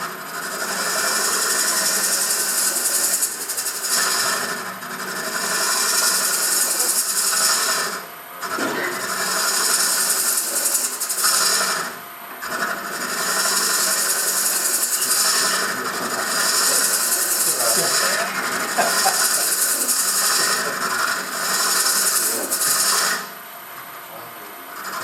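A Sorby Ultima hollowing tool cutting wood on a spinning lathe makes a continuous close, loud rasping shear. The sound swells and dips in long passes, with brief breaks between cuts.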